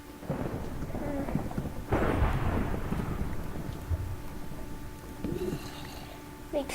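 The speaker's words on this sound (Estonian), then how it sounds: "Miks taevataat küll väljas müristab?" Thunder rumbling outside in Minecraft, with rain falling steadily throughout and heavier swells of rumble partway through, heard alone without talk.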